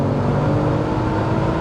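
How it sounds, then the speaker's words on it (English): A supercharged VW Golf MK4 R32 engine pulls hard under acceleration, a steady, loud, dense roar with whine heard from inside the car, no voices over it. "That's what I love about the Supercharger, you don't lose the noise."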